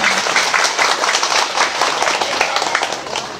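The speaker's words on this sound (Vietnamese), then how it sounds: "đề nghị hội trường cho một tràng vỗ tay thật lớn" Hall audience at a family temple inauguration in Saigon breaks into a loud, steady burst of applause, dense and continuous clapping throughout with no talk.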